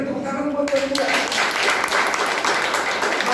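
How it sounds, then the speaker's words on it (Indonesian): A church congregation breaks into applause for God, a dense wash of clapping that swells after a brief spoken lead-in and stays loud and steady to the end. "Ayo saudara, berikan tepuk tangan buat Tuhan juga."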